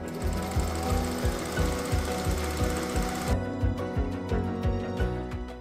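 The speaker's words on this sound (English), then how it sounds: "the sewing machine is doing a lock stitch" Lock-stitch sewing machine gathering fabric on a shirt cuff, a fast, even mechanical chatter of needle strokes running close and loud without a break.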